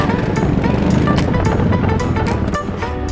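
A motorcycle engine in GTA V runs with a loud, steady drone and a busy stream of game sounds, all continuous for the whole stretch.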